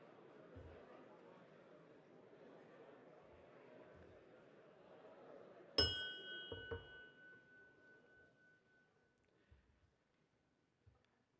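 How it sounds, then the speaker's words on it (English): A bell is struck once to open a ceremony for the 78th Tennessee Boys State program, giving a loud, sharp ring that decays slowly, with a second softer strike just after and a hushed room around it. "The ringing of the bell signifies the beginning of the 78th Tennessee Boys State program"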